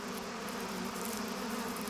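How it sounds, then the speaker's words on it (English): Male bees fill the early spring air with a steady close buzz, a constant droning hum that holds without a break and has no voices over it. "In early spring, the air is buzzing with male bees."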